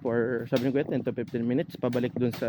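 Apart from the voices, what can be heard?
None of the usual background noises is heard.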